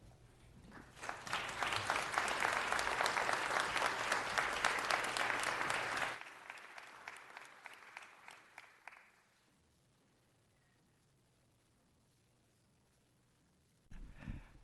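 Applause from the audience at a city council meeting swells for about six seconds, then thins to scattered claps and fades into near silence before a brief noise at the end.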